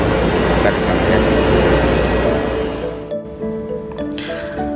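A high-speed train on the Mecca–Jeddah line in Saudi Arabia rushes past with a loud, broad roar that gradually fades, leaving a quieter hum and a few faint clanks at the end.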